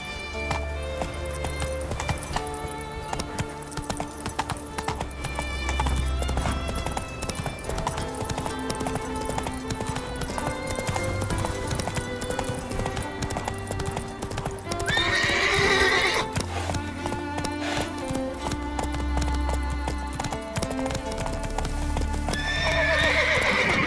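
Roach, a horse in The Witcher 3 crossing Skellige, gallops with a rapid, continuous clip-clop of hooves, broken by occasional sharp whinnies, layered over a dense game soundscape.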